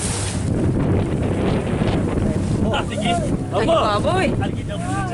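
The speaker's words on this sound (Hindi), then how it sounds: "हमारा जो नौका है आगे बढ़ रही थी और हम लोग समुद्र के द्वारा उठते हुए लहरों को" Boat pushing through rising sea waves off Goa, a steady loud rush of water and wind buffeting the microphone throughout, with voices calling out over the noise toward the end.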